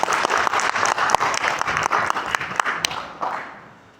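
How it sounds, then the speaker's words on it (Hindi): An audience at a product training session breaks into brisk, dense applause with sharp individual claps, holding steady before fading out over the last second. "एक बार शानदार ताली आप लोगों को"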